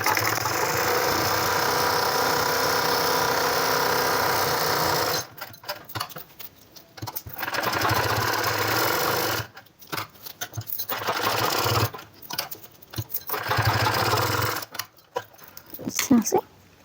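Sewing machine stitching around the collar of a baby boy's shirt, a loud continuous whirring run that breaks into several shorter bursts with pauses, close up, with a voice speaking during the quieter gaps.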